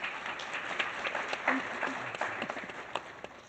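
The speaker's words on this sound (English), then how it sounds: "Let's give them a round of applause, please." A room audience applauds a panel at a business event, a steady wash of many hands clapping at moderate distance with no single clap standing out, sustained for several seconds.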